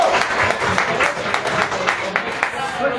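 Audience applause at a Guatemalan anniversary celebration concert, steady clapping from a crowd filling the whole stretch with a dense patter, while a voice talks over it.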